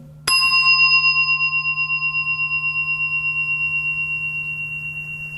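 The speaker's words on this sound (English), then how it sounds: "there's a sound of the bell coming." A single mindfulness bell struck once rings out clearly during guided breathing, its pure tone sustaining and slowly fading over several seconds against a low steady hum.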